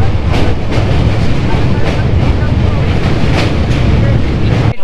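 A train rolls into Bandel Junction, heard from inside a general compartment: steady loud rumble and rattle of the carriage with wind-like noise, continuous throughout.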